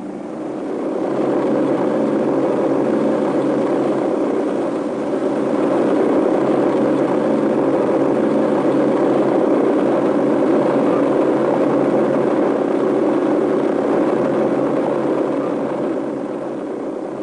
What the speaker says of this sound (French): L'utilisation poussée à l'extrême de ces hélices à pas réversibles pouvait être très spectaculaire.